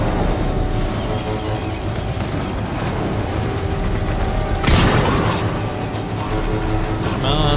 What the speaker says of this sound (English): This bolt gun is really awesome.